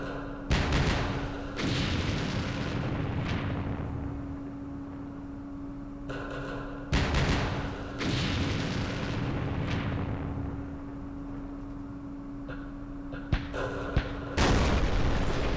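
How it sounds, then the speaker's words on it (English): Artillery fire in the Vietnam war game Campaign Series Vietnam, Dien Bien Phu scenario: several heavy booms in separate bursts, each with a long rumbling decay, plus a few sharper cracks, loud and alone with no talk. "our artillery seems to be whiffing yet again, unfortunately"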